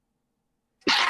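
After a second of near silence, one loud, close sneeze bursts out at the end during a Dungeons and Dragons session.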